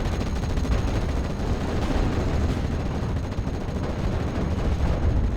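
Dense, continuous rumble of long-range artillery, mortar fire and gunfire in the WWII strategy video game Steel Division: Normandy 44, a steady loud wash of distant blasts with no clear individual shots and no talk.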